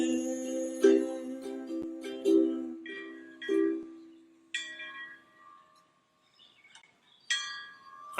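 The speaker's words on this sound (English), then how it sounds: "I think I hear the dinner bell." A dinner bell rings out in a series of clear, resonant strokes, each decaying into quiet before the next, the tones sounding moderately close and alone with no talk.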